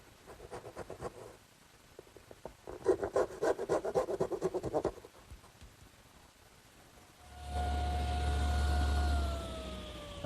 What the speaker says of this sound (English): I think this little dovetailing saw is more accurate. These cuts form the top and bottom of the tenon.